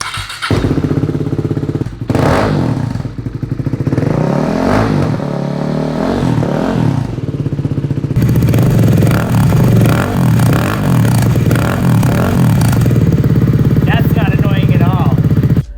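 A KTM RC390 Cup RR track bike's single-cylinder engine cranks, fires and revs loudly up close, with repeated throttle blips rising and falling over a steady idle.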